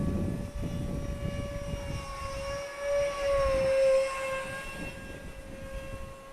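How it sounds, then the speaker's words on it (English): A Freewing F-86 Sabre radio-controlled jet with a 64mm electric ducted fan flies past, its steady high-pitched whine holding throughout and swelling briefly louder mid-pass before easing off as it continues overhead. "This was my very first EDF jet"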